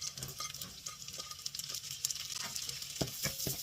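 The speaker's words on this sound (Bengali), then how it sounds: "গাজরটাকে ভেজে নিচ্ছি 2-3 মিনিটের জন্য।" Chopped carrots with ginger and garlic frying in oil, a steady close sizzle broken by frequent scraping and clinking stirs of a utensil in the pan, with no talking.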